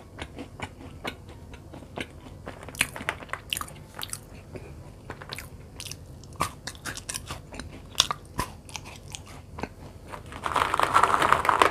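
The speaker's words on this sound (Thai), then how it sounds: "เคี้ยวเพลินมากเลยค่ะ" Close, crisp crunching and biting of round KitKat Chunky chocolate wafer snacks, repeated sharp cracks spread irregularly through the stretch, with a denser rustling burst near the end.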